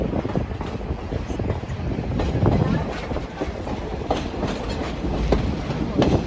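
The Verde Canyon Railroad train rolls along its tracks, heard from aboard as a steady, close rumble of wheels on rails with faint rhythmic clatter and wind noise, while voices murmur faintly underneath.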